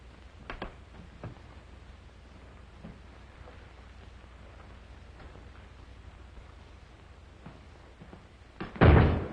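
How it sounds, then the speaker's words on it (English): In a 1938 western film, a door slams shut with a single loud, heavy bang near the end, after several seconds of quiet room tone broken by faint knocks and thumps. "Hey, careful of that door."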